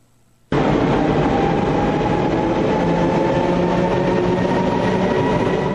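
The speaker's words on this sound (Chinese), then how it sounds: "火车开上了高架桥，" A train rolls onto the newly elevated railway viaduct at Yuanlin, Changhua, starting abruptly after a brief quiet moment and then holding a loud, steady rumble with a faint rhythmic rattle of wheels and cars.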